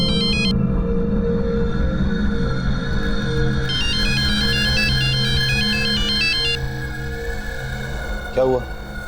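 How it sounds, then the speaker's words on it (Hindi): A phone ringtone chimes in a repeating electronic melody, moderately loud, with a low rumble underneath. "क्यों बार बार फोन कर रहे हैं?"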